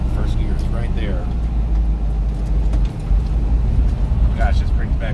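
A 1965 Volkswagen Type II Bus with a 1600 cc engine pulls away in first gear, a steady low engine rumble close by with a brief dip midway and faint voices under it.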